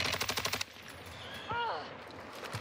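Gunfire in Call of Duty Warzone on Ashika Island: a rapid automatic burst of roughly a dozen close, loud shots lasting about half a second, followed by quieter game sounds and a brief voice.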